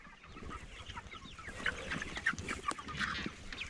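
Chickens clucking on a farm where cattle are kept, several hens calling in short, uneven bursts at moderate distance over a steady low outdoor background.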